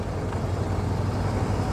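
A 1939 Mercedes 770 open touring car drives along a country road, its engine a steady low rumble with continuous road and wind noise, close and even throughout.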